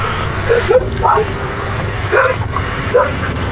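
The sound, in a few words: dogs barking in the video game Wizardry 8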